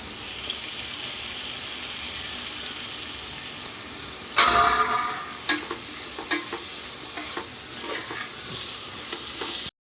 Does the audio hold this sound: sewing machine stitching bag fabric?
no